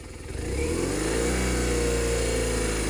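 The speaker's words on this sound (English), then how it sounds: "I've moved the throttle. You can hear the engine has increased." A car engine rises from a low idle to a steady higher rev as the throttle is opened with a cruise throttle control fitted, then holds a loud, even drone.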